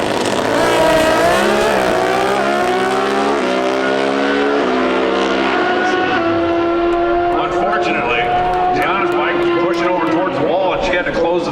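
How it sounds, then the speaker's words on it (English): Vance and Hines Pro Stock drag racing motorcycle tearing down the strip at about 198 mph, a loud rising engine howl stepping through gears and then fading, with an announcer talking over it. "Tonglin, a former champion of the category, returning here on the Vance and Hines."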